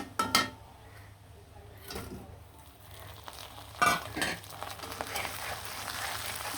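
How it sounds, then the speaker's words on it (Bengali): Hilsa fish frying in a pan with red chili, a soft low sizzle under scattered clinks and scrapes of a utensil against the pan, fairly quiet and close. "মাছটাও কিন্তু খুব সুন্দরভাবে লাল লাল করে ভেজে নিলাম"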